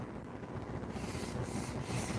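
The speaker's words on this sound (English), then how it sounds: "These little sanding blocks are great tools to have because they help give you a nice flat surface when you're" A sanding block is rubbed back and forth over a wooden cutting board, a quiet, close, steady scratchy rasp in soft repeated strokes with no talking.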